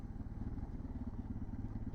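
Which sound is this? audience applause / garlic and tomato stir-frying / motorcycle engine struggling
motorcycle engine struggling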